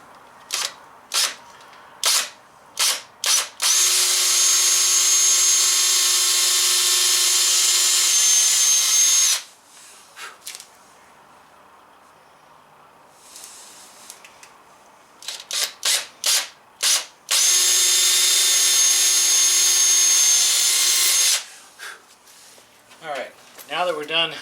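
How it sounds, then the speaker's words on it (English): A power drill bores pilot holes into the center of marked spots while building a teardrop trailer's propane stove setup. Two long, steady high-pitched runs are separated by short trigger bursts and clicks, loud and close. "we're going to go ahead and pre-drill into the center"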